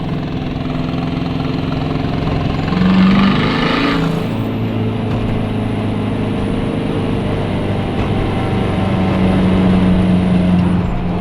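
Steady engine hum from inside a moving car, a continuous low drone with a brief swell partway through, no talking.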